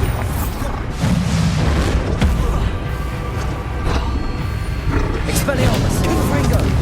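Blast from the Bombarda spell in Hogwarts Legacy, heavy booming thumps landing close among other combat effects, with a voice shouting spell names over the action.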